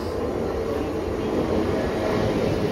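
Konkan Railway Jan Shatabdi Express on the Mumbai to Ratnagiri route heard from inside a carriage as it departs, a loud continuous low rumble and roar with no break.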